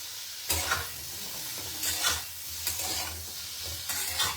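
Paneer sandwich filling with salt and Kashmiri chilli powder stir-fried in a pan: a constant close sizzle broken by three bursts of spatula stirring and scraping, no talk.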